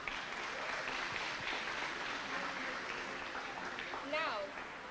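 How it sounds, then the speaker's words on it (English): Audience applause at a senior school graduation ceremony, a steady broad wash of clapping filling the whole stretch at even loudness, with a brief whistle-like tone near the end. "A round of applause as she takes her seat"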